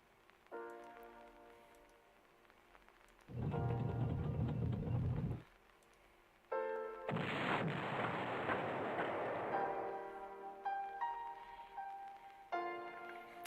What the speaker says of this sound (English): I can hit this artillery.